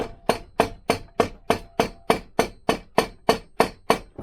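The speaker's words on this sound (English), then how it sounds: "knock that with a metal hammer" A metal hammer knocks a cold, stiff part into place while upgrading a Lambretta scooter to a big block engine, fourteen sharp, evenly spaced blows ringing out close and loud in a steady rhythm.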